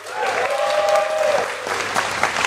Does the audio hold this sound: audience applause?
yes